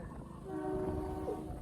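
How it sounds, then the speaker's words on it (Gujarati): A passing train on a railway near a highway gives a brief, distant horn-like tone over a low rumble, fairly faint. "ઓ ટ્રેન આવી"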